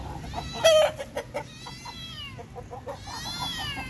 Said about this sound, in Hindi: ये छोटा सा बिल्ली का एक बच्चा आया जो बोले जा रहा है।